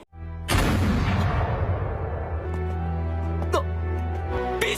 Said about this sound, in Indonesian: Kemudian terdengar suara tembakan dari arah luar gua.